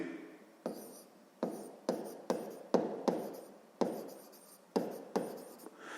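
A pen writes a math solution on paper in short bursts of scratchy strokes, about a dozen quick close marks with brief pauses between them and no talking.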